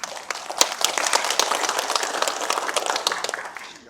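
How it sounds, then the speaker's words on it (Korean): Applause from an audience at a memorial ceremony for civilian victims of the Korean War in Seosan, a dense burst of many hands clapping at once, steady and fairly loud, gradually thinning toward the end. "박수 한번 부탁드리겠습니다."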